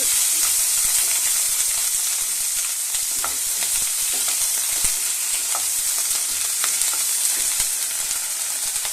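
Cauliflower fries in an open pan for a cauliflower palya, a continuous close, loud sizzling hiss with soft irregular stirring scrapes and clicks underneath, no one speaking.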